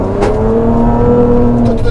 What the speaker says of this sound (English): I just turned and went sideways up a dune while talking to you.